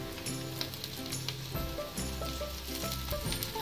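Aloo tikki potato patties shallow frying over a medium flame, with a continuous close sizzle and occasional crackles over soft background music.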